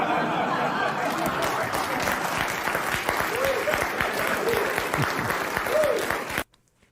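Loud, dense applause from a large audience runs for about six seconds, with faint voices and brief laughs mixed in, then cuts off abruptly near the end.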